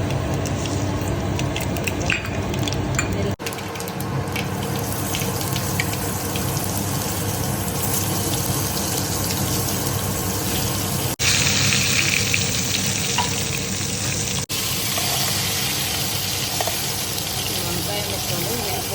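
Mustard seeds sizzling and crackling in hot oil for an eggplant masala curry, a loud, steady, close frying hiss that fills the whole stretch and never lets up.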